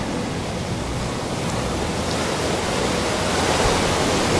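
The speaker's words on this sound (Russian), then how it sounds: "море успокаивающее и необозримое" Sea waves breaking on the shore at Varkala, Kerala, India, a steady, dense wash of surf that fills the whole clip and swells slightly louder toward the end, with no voices.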